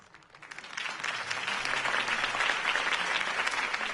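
A crowd applauds after a campaign speech in the Batman Telltale video game, the clapping swelling over the first second into a full, sustained ovation that eases slightly at the end.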